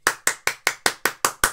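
Eight crisp, evenly spaced hand claps ring out close and loud at a brisk, regular pace, each snapping sharply then decaying before the next, with no voices over them.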